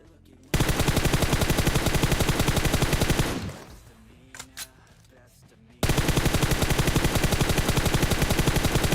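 In the video game PUBG, loud rapid automatic gunfire rattles in long continuous bursts, breaks off into a quieter lull with a few scattered distant shots, then resumes at full intensity.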